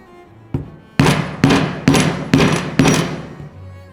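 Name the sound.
hammering a 5-prong chisel to punch holes in leather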